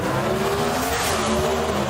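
Pro Stock drag race cars at the NHRA Midwest Nationals roar down the strip, a loud sustained engine drone with high-pitched whine and rising pitch, steady and close throughout.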